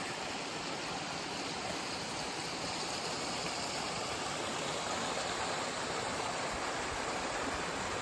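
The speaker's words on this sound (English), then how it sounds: "Some little cascades here." Creek water spilling over small rocky cascades along a wilderness trail, a constant soft rushing wash without pauses or voices.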